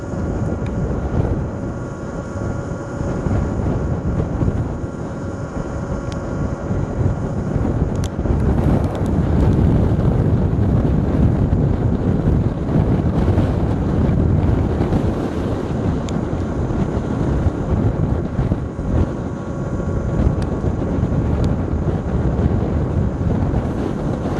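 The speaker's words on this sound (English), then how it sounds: "They shield me from the wind gusts." Strong wind buffeting the microphone while riding a Talaria Sting electric dirt bike, a loud, constant low roar with heavier gusts swelling throughout, no voices.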